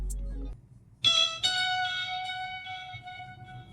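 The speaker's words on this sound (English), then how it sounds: "Next, I added some more just individual whirly notes," Whirly synth notes layered into a soul sample for a beat, a sustained bright tone entering after a short low hit, then a second note swelling in and ringing on alone.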